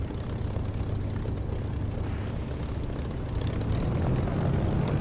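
Steady broadband roar of an aircraft engine idling on the runway before takeoff in the DCS flight simulator, loud and continuous with a low rumbling base, swelling slightly toward the end.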